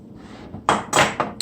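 Garlic cloves crushed in a garlic press in a home kitchen while cooking Jamaican-style steamed fish, giving a few sharp, close crunching clicks over a quiet background.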